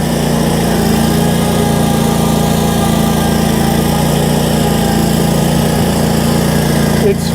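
Engine of a Kioti stand-on lawn mower running at steady speed, a loud continuous drone with a constant low hum throughout and no pauses.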